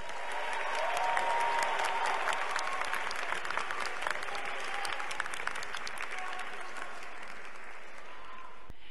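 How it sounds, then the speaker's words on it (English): Graduation audience at a University of Oregon business commencement applauds families and friends, a broad wash of clapping from a large crowd with a few cheers that holds steady, then eases slightly toward the end. "can we have a round of applause for your families and friends?"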